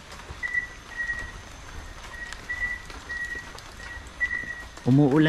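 Steady rain patters in the background at a cemetery with a faint, continuous hiss, while a thin whistling tone recurs and a voice briefly speaks at the end.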